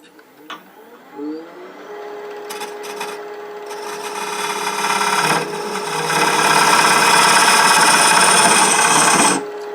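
A wooden rook chess piece box being turned on a lathe while a small stepped tenon is cut, a few light taps, then a rising, steady scraping rasp of tool on spinning wood that ends abruptly.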